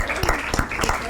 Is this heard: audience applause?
yes